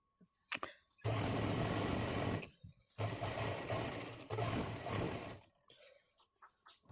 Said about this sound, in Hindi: अब हम लपका सिलाई लगा लेंगे।